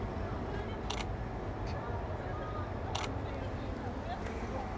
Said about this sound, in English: I like that Nikon added this nicer shutter sound, the fake shutter sound